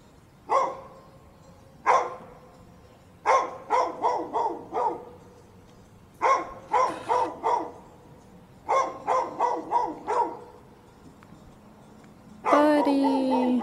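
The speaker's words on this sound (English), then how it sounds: "There's so many dogs on this property." Several dogs on a property bark in repeated bursts, some single loud barks and some quick clusters of three or four, fairly close, ending with a higher whining yelp.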